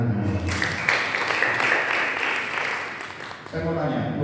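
A church congregation claps together through a sustained burst of applause that fills the room and then tapers off toward the end, with a voice audible beneath the clapping.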